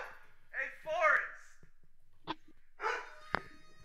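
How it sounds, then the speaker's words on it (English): A dog lets out a few yips and short barks close by amid excited cheering voices in a room while football plays. "even my dog is cheering for Mr. Clean"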